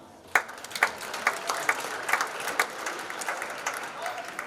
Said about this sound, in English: You guys are doing great with the applause.